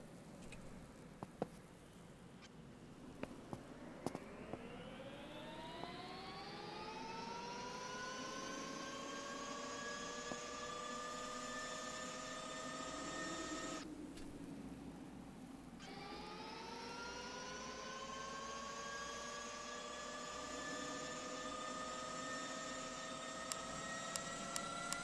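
A sports bike engine in the game Gearblocks revving high at idle, a rising whine that climbs and holds, drops out briefly, then climbs again, steady and sustained with a few small clicks.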